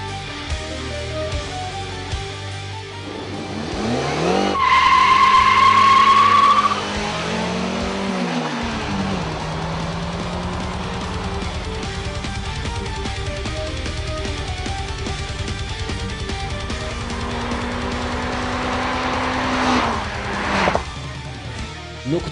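Two cars, a manual-transmission model and a Korean automatic, launch from the start of a drag race: engines rev up with a brief tire squeal, then a sustained loud drone as they accelerate away.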